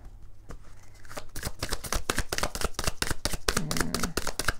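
Tarot cards being shuffled by hand during a reading, a dense run of rapid riffling and flicking clicks building steadily, close and fairly loud, with a faint hum beneath.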